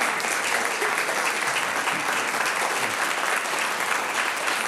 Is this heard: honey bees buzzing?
no